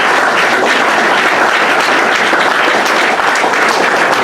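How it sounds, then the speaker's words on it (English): Sustained, loud applause from an audience for candidates at a Republican congressional debate, dense and even from start to finish with no voices over it. "Let's have a big round of applause for all the candidates tonight."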